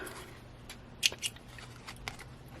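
Scissors trim a piece of walnut-stained paper for a crafted tuck spot, giving two or three brief crisp snips close by against quiet room tone, with no talking.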